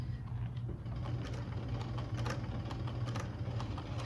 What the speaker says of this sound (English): So I'm going to start the stitch. 3 stitch this way, 3 stitches on the other way